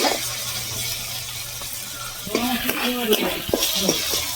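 Ginger and tomato masala sizzles in a pan while being stirred for Bengali cabbage dhoka, with soft frying hiss and a few spoon scrapes against the pot, and a voice speaking over it.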